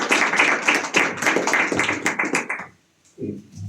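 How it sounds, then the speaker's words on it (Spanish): Audience applause at an Amnesty International annual report event in Juliaca, a dense burst of clapping that fades out after about two and a half seconds before a voice begins speaking. "Te recibimos con aplausos al doctor César"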